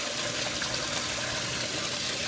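Water splashing and churning inside a hydrocyclone aeration cone on a radial flow filter setup, a constant close rushing hiss with no breaks.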